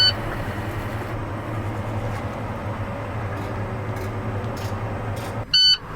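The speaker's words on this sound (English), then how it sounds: "Warning light and buzzer working properly." A low air pressure warning buzzer sounds inside a truck cab during a brake test, with the engine off and ignition on. It gives a steady, loud, continuous tone, then a short, sharp beep near the end.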